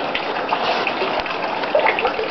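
Rainwater runs off a house roof and pours out of a gutter downspout in a steady, close, continuous gush and splash.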